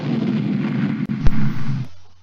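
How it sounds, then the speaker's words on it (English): Explosion sound effect in an audio drama, a diesel vehicle blowing up: a loud rumbling roar with a sharp crack partway through, then a quick fade to quiet. "A fiery explosion."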